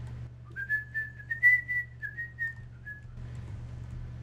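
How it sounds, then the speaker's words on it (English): A person whistles a short tune during a Space Engineers survival game session, a single sustained, wavering melody that rises and falls for about two and a half seconds over a steady low hum, then stops. "I probably shouldn't whistle, that would hurt you guys' ears."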